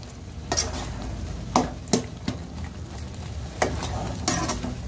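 A spoon scrapes and stirs tomato masala with garam masala in a pan for paneer makhani, several distinct strokes over a soft, steady sizzle.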